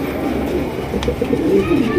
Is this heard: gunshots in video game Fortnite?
no